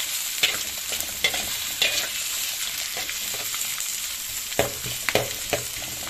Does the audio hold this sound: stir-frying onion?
yes